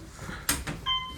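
The rear door of an Otis hydraulic elevator slides open with a couple of sharp clunks and rattles, followed by a short tonal chime and a final knock, heard fairly close.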